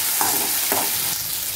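Chutney ingredients sautéing in a pan, with a steady hiss of frying and two soft scrapes of stirring spaced about half a second apart. The sound is close, even and unbroken, and no one speaks.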